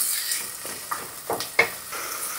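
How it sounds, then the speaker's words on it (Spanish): Onion frying in oil in a pan for a chicken stew, a steady soft sizzle with a few brief stirring scrapes and pops, close and alone with no talk. "Vamos a sofreír bien la cebolla hasta que esté transparente."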